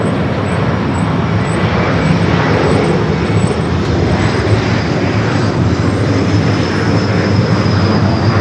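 Airbus A321neo on flight 1045 to Seattle at LAX, a steady, loud broadband jet engine roar with a faint high whine, constant throughout with no talk.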